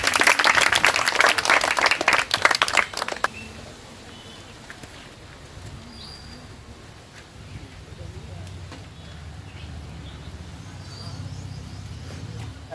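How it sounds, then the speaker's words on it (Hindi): Schoolchildren at an outdoor quiz competition give a loud burst of clapping for about three seconds, then it stops abruptly, leaving quiet open-air background with faint birds and distant movement. "ताली बजाओ बच्चों।"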